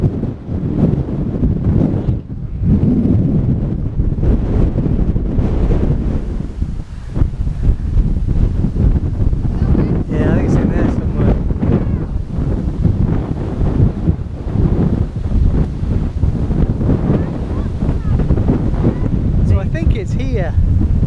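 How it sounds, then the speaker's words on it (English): Strong coastal wind buffets the microphone in a constant loud roar throughout, with faint voices and possible surf mixed beneath the rumble. "I'll be surprised if you can hear anything over the wind."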